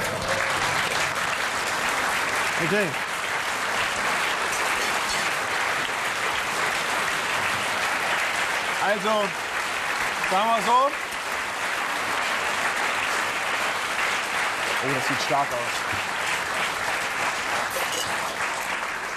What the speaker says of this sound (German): weil Sie so lieb geklatscht haben